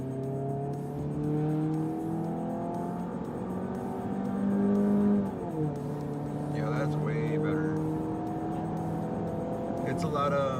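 A Jeep Renegade fitted with a GOPedal Plus throttle controller turns and accelerates hard, its engine note climbing in pitch, shifting, then rising again, heard from inside the cabin at moderate loudness.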